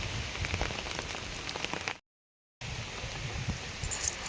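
Heavy rain pours steadily onto surfaces outdoors during monsoon flooding, a dense close patter that breaks off for a moment of silence and then resumes at the same strength.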